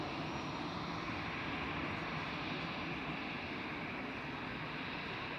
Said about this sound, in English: we have here a Swiss A321 taxiing out to Dublin